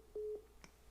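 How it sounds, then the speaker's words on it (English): An incoming phone call alert: two short, identical electronic beeps in quick succession, then a brief click, faint and without voices. "sorry, we had a phone call come in"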